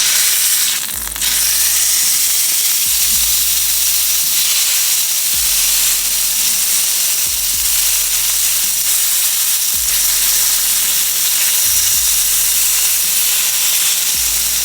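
A steak fries in a pan with a steady, loud sizzle and crackle that runs throughout, broken by a few low thumps at intervals, with no voices.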